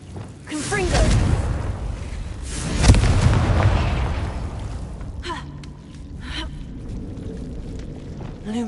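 A Confringo fire spell exploding in Hogwarts Legacy, two deep rumbling blasts close together that fade into a quieter game ambience with faint voices.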